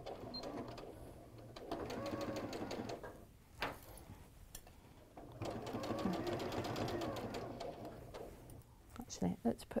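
A domestic sewing machine stitches the edge of an autumn-themed cushion in two long bursts, its needle chattering rapidly and steadily, with pauses between runs and someone talking over parts of it.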